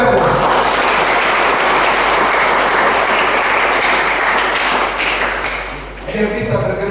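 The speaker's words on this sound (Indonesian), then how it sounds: "Kita beri aplaus." A church congregation applauds during a Christmas Eve youth celebration, a loud, sustained wash of clapping with a steady ringing tone underneath, tapering slightly near the end.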